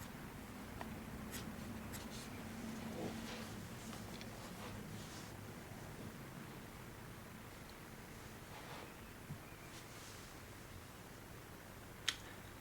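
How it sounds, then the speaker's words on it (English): A charcoal pencil sketches a dancer on paper with continuous soft scratchy strokes, quiet and close, broken by a few faint taps. "This is charcoal pencil that we're using at the moment."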